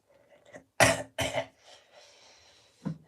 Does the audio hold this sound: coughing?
yes